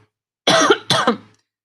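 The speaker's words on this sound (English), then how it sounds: "I'm getting over a little bit of a cough" Two harsh coughs close together, near and fairly loud, with silence before and after.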